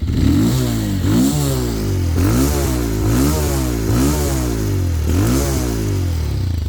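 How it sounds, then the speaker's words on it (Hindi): A Bajaj Pulsar 220F motorcycle engine revs repeatedly, rising and falling in pitch in loud, steady surges close by with no talking. "आवाज़ बड़ी प्यारी भाई मोटरसाइकिल की।"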